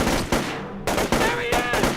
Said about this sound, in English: We got incoming shots!